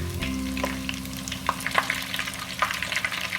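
Money bag dumplings fry in hot oil, giving a steady close sizzle scattered with sharp pops and crackles, with no voices.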